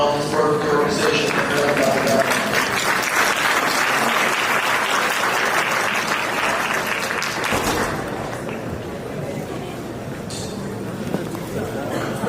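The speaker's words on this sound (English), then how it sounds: "I'd like to get a round of applause for Dr. Kumar" Sustained applause from a convention audience fills the hall, loud and steady for most of the stretch before easing slightly toward the end, with faint voices mixed underneath.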